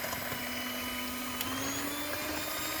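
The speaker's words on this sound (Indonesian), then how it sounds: "Selanjutnya kita mixer adonan hingga kental, putih," Electric mixer beating steamed pandan and black sticky rice cake batter, a continuous close motor whine with a faint tone that shifts slightly upward as the speed changes.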